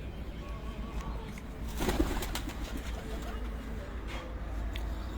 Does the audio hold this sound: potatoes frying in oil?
no